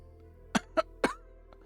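Three sharp coughs from a character in the game Necrobarista, in quick succession, close and fairly loud, followed by quiet.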